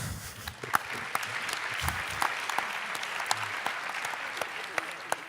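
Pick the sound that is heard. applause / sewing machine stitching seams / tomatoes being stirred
applause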